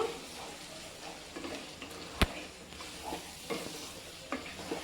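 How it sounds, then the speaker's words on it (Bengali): Chicken gravy with yogurt is sautéed in a pan, a soft continuous sizzle with scraping stir strokes and one sharp clink of a utensil against the pan midway, no talking. "টক দই দিয়ে দিলাম দিয়ে আবারও আমি কিছুক্ষণ ধরে কষিয়ে নেব"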